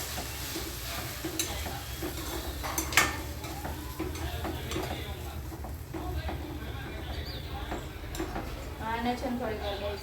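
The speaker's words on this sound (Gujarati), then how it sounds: "જો ગાઈસ તેલ ગરમ થઈ ગયું છે, રાઈ મસ્ત જીરું નાખી દીધું છે" Mustard seeds and cumin tempering in hot oil give a steady sizzle, with spoon-stirring scrapes and light utensil clinks close by; a voice is faintly present.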